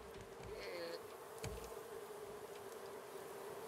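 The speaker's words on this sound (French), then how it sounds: "Ah, j'entends les abeilles à l'intérieur." Steady buzzing of bees inside a hive in the survival video game Raft, a continuous drone under faint clicks and a few sharp taps.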